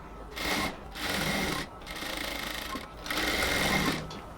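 A sewing machine runs in four steady bursts with short pauses between them, stitching the neckline onto a blouse at about a 2.2 stitch length. It sounds close and loud, with no talking.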